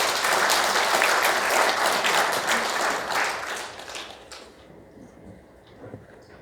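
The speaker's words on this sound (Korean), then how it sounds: "우리 성낙인 총장님께 감사의 박수를 전해주려고 합니다" Applause from an audience at a constitutional-amendment forum greets the speaker, former university president Seong Nak-in. The dense clapping swells and then fades out over a few seconds into a quiet room.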